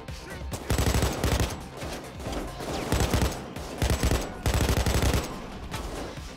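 Sustained machine gun fire in Payday 2, loud rapid bursts rattling near and close, broken by short pauses and restarting in several long volleys with little talk.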